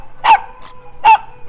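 A small dog at an animal rescue shelter in Phuket lets out two sharp, loud barks spaced under a second apart, close by, with a faint yip between them.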